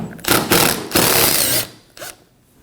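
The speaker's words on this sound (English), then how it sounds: "We're going to remove the screws from those as well on either side." A power driver whirs in short bursts, backing screws out of a front valance panel on a Ford Edge, three or four brief buzzing runs close by.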